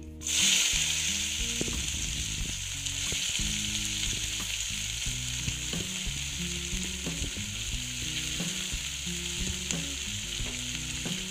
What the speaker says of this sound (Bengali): দিয়ে এটা আস্তে আস্তে ভেজে নেব, বেশি তাড়াহুড়ো চলবে না।